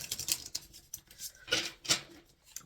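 Tarot card deck shuffled by hand in a few quick, crisp riffling and sliding bursts, close and fairly quiet, with short pauses between.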